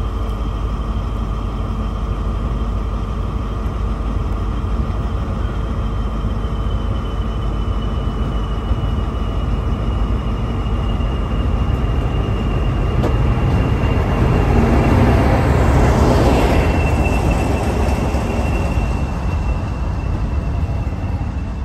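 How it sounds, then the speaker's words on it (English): A Class 40 diesel locomotive draws into Kidderminster station on the Severn Valley Railway during an autumn diesel gala. It gives a loud, steady engine drone with a high whine that swells as it comes close, and no one speaks. "And this is Class 40 number 40106 Atlantic Conveyor arriving into Kidderminster."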